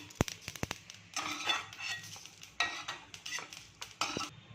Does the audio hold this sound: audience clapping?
no